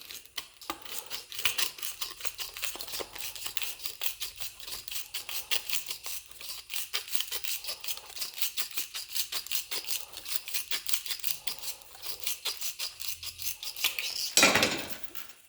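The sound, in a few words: trimming worn edge of body mount with tin snips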